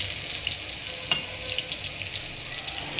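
Dry red chillies and five-spice seeds crackle in hot oil, a bright steady sizzle with one sharp clink partway through, close by and without speech.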